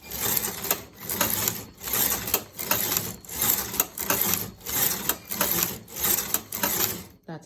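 A knitting machine working an I-cord runs its carriage back and forth in a steady rhythm of about eleven rasping, clattering strokes, close and loud, ending abruptly.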